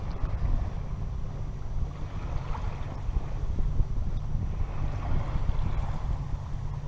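Wind rushing over the open Mediterranean while sailing on a cruise from the Étang de Berre toward l'Escalet, a steady low roar and buffeting on the microphone with faint water wash beneath, continuous and without talk.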